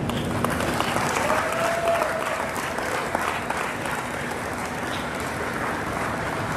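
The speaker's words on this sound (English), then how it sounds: "Big clap." Audience applause fills a room at an alumni awards and athletic hall of fame dinner, steady dense clapping throughout at moderate level with a low hum beneath.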